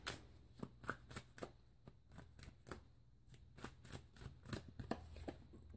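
Tarot cards being shuffled, a quiet run of crisp riffles and taps in an irregular rhythm, close up and alone.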